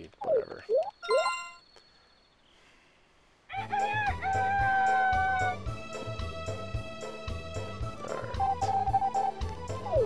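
Video game chickens from Harvest Moon 64 cluck and a rooster crows in short bursts before a bouncy farm music loop with plinking sound effects takes over.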